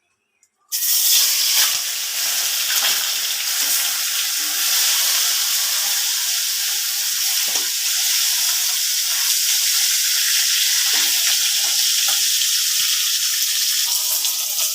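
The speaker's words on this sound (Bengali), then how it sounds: "মাছগুলো ভেজে নেওয়ার জন্য তেল দিয়ে দিব।" Pieces of fish dropped into hot oil burst into a loud sudden sizzle that holds as a strong, steady hiss close by, with faint crackles and no voices.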